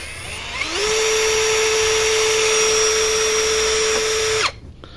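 A cheap brushless drill spins up from quiet into a steady, high whine during an RPM test, runs evenly for several seconds, then cuts off abruptly.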